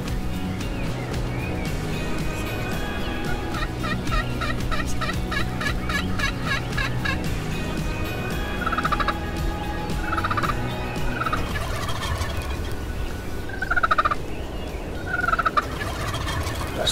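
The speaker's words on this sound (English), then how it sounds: "Comes a bunch of turkeys." Wild turkeys, toms with long beards, gobble over and over during a hunt in the field. The rattling gobbles come in repeated bursts over a constant background wash.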